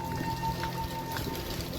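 Heavy unseasonal rain pours down on farmland, giving a steady, dense hiss with a faint hum underneath and no talk.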